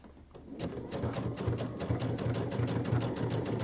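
A sewing machine runs steadily, zigzag stitching around the fabric binding of a jelly roll rug, its needle beating in a fast regular rhythm close up with no talk.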